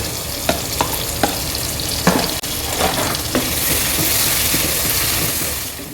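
Tomatoes and ginger-garlic paste sizzle steadily in a hot pan, with a few sharp clicks and scrapes of stirring early on, then a continuous bright frying hiss, close and fairly loud.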